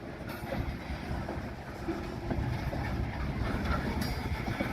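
Locomotive number 3098, formerly leased to Canadian Pacific, moves rail cars past at close range, producing a steady rumbling roll with faint clanks and metallic squeaks throughout.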